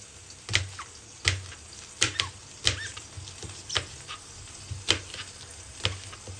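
Chopped peppers sauté in a pan alongside chicken for a mushroom chicken sauté. A steady soft sizzle runs throughout, broken by sharp clacks of stirring every second or so, close and alone.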